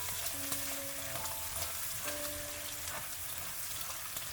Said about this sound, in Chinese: 炒至肉末微微变色之后，再将葱花、蒜末倒进来，